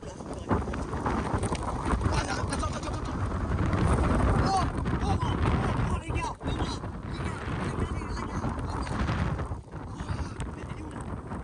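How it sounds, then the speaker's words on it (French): Very strong wind gusts roar loudly and continuously across the microphone outdoors, with buffeting surges and brief dips, while people talk underneath. "voir des très fortes rafales de vent"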